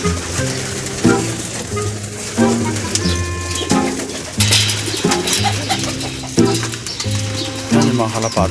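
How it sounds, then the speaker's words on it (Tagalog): Pigeons cooing in a loft or coop, with repeated low rhythmic coos layered over one another at close range, alongside a steady background of other bird calls and noise. "Yan yung mga kalapati natin. Ang dami na nila ngayon."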